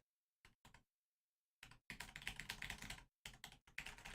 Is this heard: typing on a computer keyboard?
yes